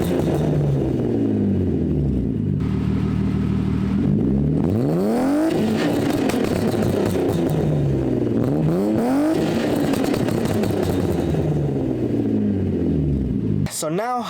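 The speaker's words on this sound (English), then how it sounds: "let's go ahead and see what the Borla exhaust sounds like" BMW E36 with an RK Tunes OBD1 chip and a Borla exhaust, its engine revving up and down in several loud rising and falling sweeps close by, with a sharp pop near the end.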